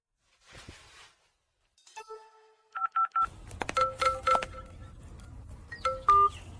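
Telephone keypad tones as a number is dialed before a call: a few scattered beeps, then quick bursts of short dialing tones in a steady, close sequence over faint room noise, with no talking.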